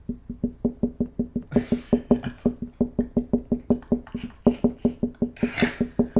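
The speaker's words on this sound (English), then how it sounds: "The slowest, lowest knock" Low, dull knocking on a door, a long steady series of evenly spaced thuds repeating without pause, close and fairly loud with nothing else over it.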